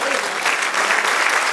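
A church congregation claps together in steady, dense applause, close and continuous with no voices standing out.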